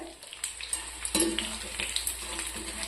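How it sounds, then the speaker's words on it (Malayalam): Chicken pakoda pieces frying in hot oil for a crispy snack, a continuous close bubbling sizzle with light crackles and a brief stir, no voices. "ഇനി ഇതേപോലെ ബാക്കിയെല്ലാം നമുക്ക് ഫ്രൈ ആക്കി എടുക്കാവേ"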